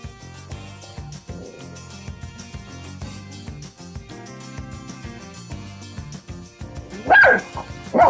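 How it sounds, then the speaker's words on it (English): A dog barks in a PGA Tour 2K25 golf game, repeated yips and barks over steady background music, with a louder burst near the end. "Quit barking."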